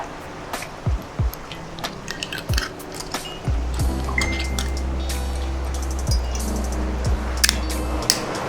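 Coffee liqueur is poured from a bottle into a metal jigger over a bartop. A steady gurgling stream is framed by clinks of glass and ice and by small knocks before and after the pour.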